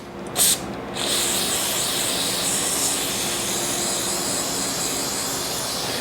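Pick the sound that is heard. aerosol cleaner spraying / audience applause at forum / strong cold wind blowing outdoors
aerosol cleaner spraying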